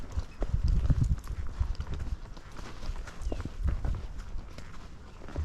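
A small horse walks in an arena with its hooves clopping in a steady rhythm, muffled and close on soft ground, joined by some rider movement noise and no clear talk.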